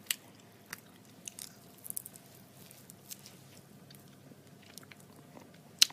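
Crunchy coated peanuts being chewed and eaten close up, with irregular crisp crunches and bites scattered through a quiet background.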